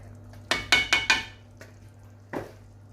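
A cup of yogurt goes into chicken pulao in a pot: a spoon scrapes and knocks against the metal several times in quick succession, then one more clink follows after a pause, all fairly close and clear.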